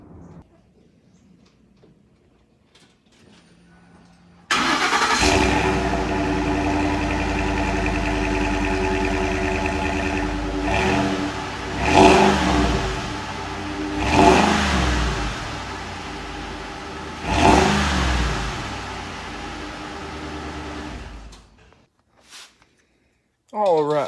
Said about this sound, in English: we'll fire it up, give y'all a couple little revs and whatnot